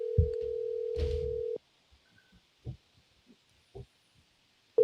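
Telephone ringback on a call: a steady tone for about a second and a half, then it cuts off, followed by a few faint soft knocks and clicks on the line.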